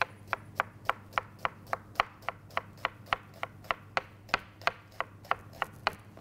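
A knife chops red onion finely in a fast, even run of about twenty crisp taps against the board, close and moderately quiet, with no voices.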